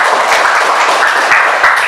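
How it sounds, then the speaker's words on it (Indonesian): Classroom applause from students, a dense, loud burst of clapping that continues steadily for a couple of seconds with no talking over it. "kasih tepuk tangan dulu untuk Justin."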